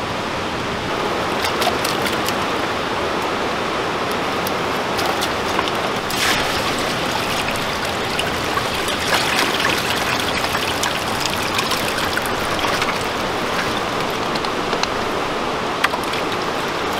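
River water rushing steadily at a gold highbanking site, a continuous loud broadband gush with faint splashes and clicks throughout, heard alone without voices.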